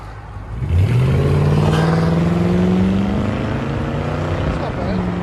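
A 2008 Mercury Grand Marquis 4.6L V8 with a true dual straight-piped muffler-delete exhaust and stock cats revs up loudly and close, its deep roar climbing in pitch, then holding at a steady high drone.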